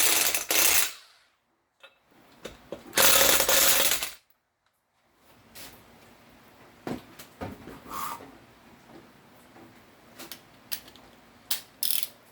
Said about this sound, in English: I'll hit them with the torque wrench